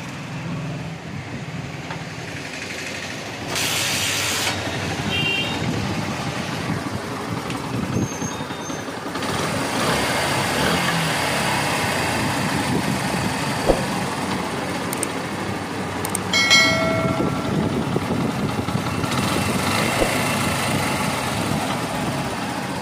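A motorcycle engine runs steadily after a bore job and new silencer fitting, a continuous mid-level idle hum lasting throughout with a few brief clanks in the background and no talk.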